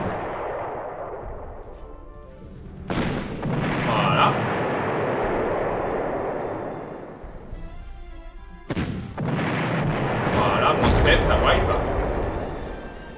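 Artillery fire in the World War II strategy game Panzer Corps, set in the 1944–1945 push toward Antwerp: loud sustained rumbling booms with sharp blasts around three and nine seconds, continuing under the game's ambient noise.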